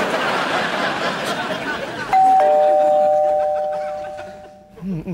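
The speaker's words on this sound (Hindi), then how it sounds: "नीचे घंटी बज गई" A two-tone doorbell chime rings once, its sustained notes slowly fading, over background chatter and noise.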